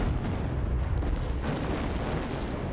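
A vapor cloud explodes at a chemical plant, a loud, sustained, rumbling blast roar that fills the whole stretch without a break.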